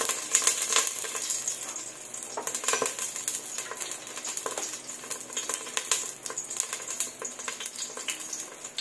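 Oil with annatto seed sizzling in a pan, a soft steady crackle with occasional clinks and stirring sounds, no talking.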